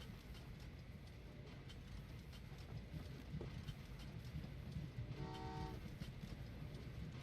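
Passenger trains running in the video game Train Valley 2, a quiet low rumble of rolling stock with a short tonal horn toot about two-thirds of the way through.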